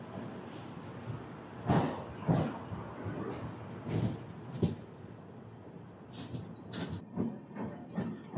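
A Chennai Egmore–Visakhapatnam special train rolls into Duvvada railway station, heard faintly as soft rhythmic clunks and clacks over a quiet rumbling background.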